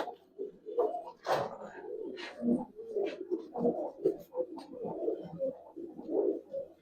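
Old-breed Giribaz and Palla line pigeons coo in a soft, steady stream of low burbling calls, close by and continuous, with scattered flutters and rustling in the loft.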